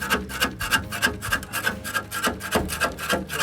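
A putty knife scrapes non-slip strips off RV steps in steady, rapid rasping strokes, close and fairly loud with a rough, gritty texture and no talking.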